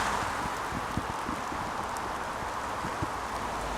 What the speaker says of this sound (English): The rain is really chucking it down now